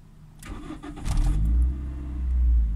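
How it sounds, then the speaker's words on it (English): A 1995 Toyota Celica engine starting after a no-start fault following battery replacement: a brief cranking whir, then the engine catches and settles into a loud, steady, low idle close by. "the engine is starting."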